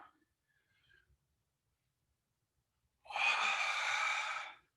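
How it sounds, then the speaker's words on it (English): A long, forceful Ujjayi yoga breath with a steady hiss rushes out close by after a few faint rustles, lasting over a second. "Forceful breathing, making hissing sound."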